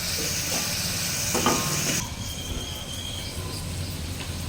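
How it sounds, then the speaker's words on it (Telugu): Onions frying in a little groundnut (peanut) oil for a village-style curry, a steady bright sizzle that runs loud and then eases to a softer hiss, with occasional stirring clatter. "ఉల్లిపాయలు బాగా మగ్గాలండి మొత్తం నూనె తక్కువ వేస్తున్నాను అనుకోకండి"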